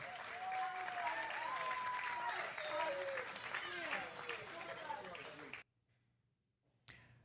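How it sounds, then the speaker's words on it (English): Audience applause after a presentation on same-day video slideshows, a steady crowd clapping with someone speaking over it, then a sudden cut to near silence before a brief return. "A big round of applause, ladies and gentlemen"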